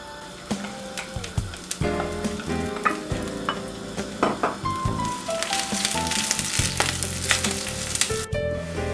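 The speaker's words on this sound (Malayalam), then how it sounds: "നമുക്കൊരു പകുതി നെയ്യെടുത്ത് ചൂടായ പാനിലേക്കിട്ട് തേങ്ങാക്കൊത്തിനെ വറുത്തെടുക്കാം" Coconut pieces fry in ghee in a hot pan with a close, continuous sizzle, broken by frequent scraping and clinking strokes as they are stirred.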